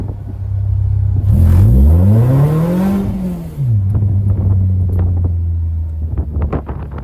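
Tuned Honda K-series car accelerating in first gear from idle: a steady low idle, then a loud rising engine rev climbing to a peak and dropping back, with wind buffeting the microphone, followed by the engine idling again.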